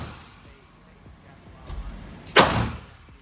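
A single loud Zigana Model F pistol shot rings out at close range during shooting practice, a sharp broadband crack with a short decay, preceded by a faint thump and followed by quiet background.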